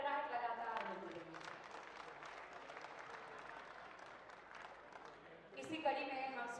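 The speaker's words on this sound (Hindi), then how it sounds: "तालियों की गड़गड़ाहट लगातार मिलती रही।" Audience applause at a Bharatiya Janata Party welcome ceremony for a Vikasit Bharat Sankalp Yatra launch, a sustained wash of clapping from a crowd, with a voice over a public address system at the start and again at the end.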